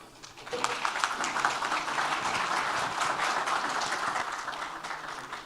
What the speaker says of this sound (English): please another round of applause for Dr. Yilmaz and Dr. Hammour